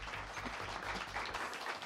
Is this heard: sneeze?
no